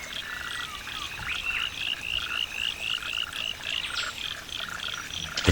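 Frogs calling in Australian coastal rainforest, a fairly faint chorus of repeated short croaks and chirping trills in an uneven rhythm over quiet background hiss, with no voices.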